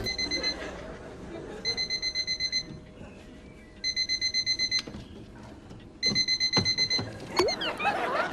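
A bedside alarm clock rings in repeated bursts of rapid, pulsing beeps, each lasting about a second, separated by short pauses and faint background rustling, fairly close and clear.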